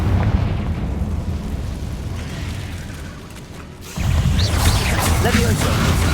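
A blasting spell in the Hogwarts Legacy video game goes off, a dull mechanical whoosh building to a sudden loud eruption about two-thirds through, followed by crackling debris, with a voice in the scene.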